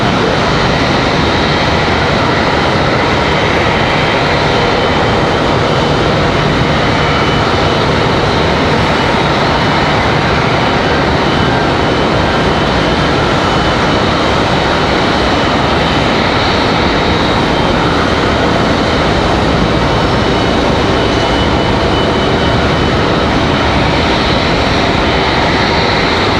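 A Southwest Airlines Boeing 737-800 jet at Raleigh-Durham International Airport, a loud, unbroken broadband engine roar holding steady throughout, with no voices over it.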